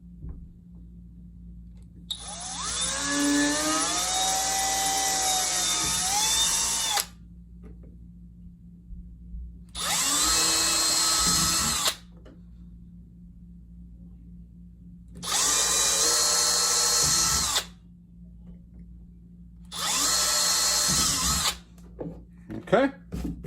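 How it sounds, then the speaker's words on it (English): Small drill bit boring pilot holes in PVC for a kayak GoPro mount: a long whining burst with pitch shifts, then three shorter separate bursts, close and loud over a low steady hum. "we're going to drill some pilot holes with just a small drill bit"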